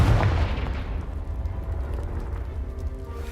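A Confringo fire spell explosion in the video game Hogwarts Legacy, a loud booming blast at the start followed by a rumbling, crackling decay that fades over a few seconds.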